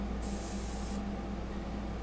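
An airbrush sprays sepia paint for a fine art portrait, giving a steady close hiss that lasts under a second, then fades into a soft continuous background hum.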